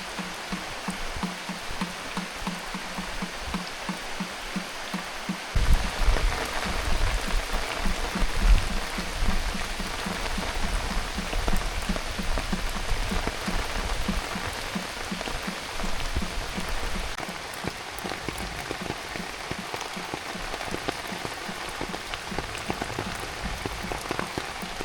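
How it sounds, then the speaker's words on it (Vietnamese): Heavy rain pours down steadily and densely, hissing on surfaces at a home in the countryside, and grows louder after the first few seconds with no voices heard. "Trời mưa to quá là tụt hết xuống"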